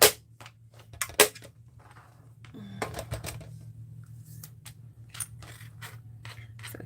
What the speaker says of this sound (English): now we're just going to quickly die cut this